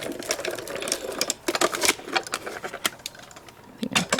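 A die-cutting machine presses paper and a metal die through its rollers, a steady run of clicking, grinding mechanical noise with sharp ticks and bumps, fairly loud and close, with no talk.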